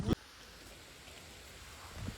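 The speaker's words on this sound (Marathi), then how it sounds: "मित्रांनो आता पाऊस चालू झाला आहे" Rain falls beside a river on a Goa to Konkan road trip as a faint, steady hiss. A brief knock sounds at the start and a soft rustle comes near the end.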